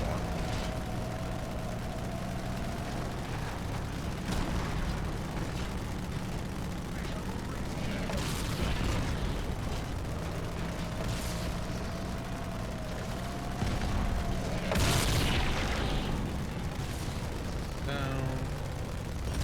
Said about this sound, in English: The Wraith bombs hurt even more.